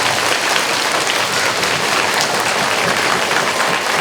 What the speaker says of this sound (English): can we give the veterans a big round of applause?